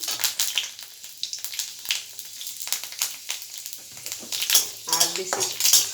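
Whole panch phoron spices pop and sizzle in hot oil in a pan, crackling loudly up close while a utensil scrapes and clinks against the metal in irregular bursts.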